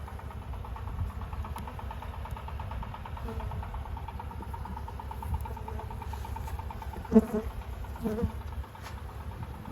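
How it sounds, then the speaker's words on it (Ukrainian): Honeybees buzzing at a beehive in spring as young bees emerge, a steady low drone throughout with a few louder knocks near the end. "Це вже вилупилась молода бджілка."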